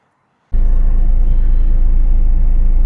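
A Renault Master van's engine, heard during an air-con gas refill, starts abruptly after a brief silence and settles into a loud, steady, close-up idle rumble.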